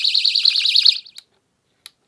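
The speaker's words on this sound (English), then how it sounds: "in the background, there's this ultrasonic scream." An ultrasonic animal repeller device sounds a high, warbling electronic alarm that pulses rapidly for about a second, then cuts off, followed by two brief faint chirps.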